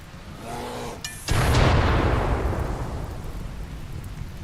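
A steady rush of rain in the video game RimWorld starts abruptly after a faint opening, a broad hiss that stays loud and then slowly eases off slightly, with no talk.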